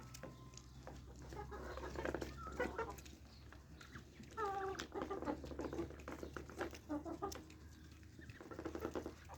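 Baladi chickens clucking in a yard while they peck at food scraps, soft scattered clucks and murmurs close by with light pattering movement.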